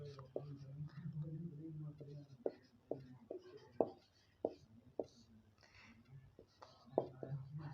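Writing on a board produces a series of short, sharp taps and scratches at an uneven pace, with a quiet voice talking in the background.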